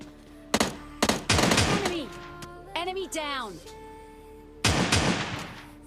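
Gunfire in a solo-versus-squad battle royale game: several sharp shots in bursts, near and loud, with game sound effects between them and a voice talking at times.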